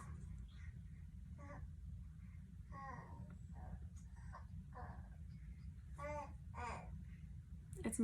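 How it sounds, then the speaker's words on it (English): A baby babbles and coos in short bursts behind a steady low hum, the little vocal sounds coming and going throughout. "Sorry if you can hear my baby in the background"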